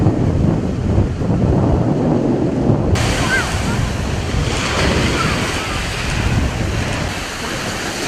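Waves break on a beach in steady wind, a loud, continuous roar of surf mixed with rumbling wind noise on the microphone, with no clear individual breakers standing out.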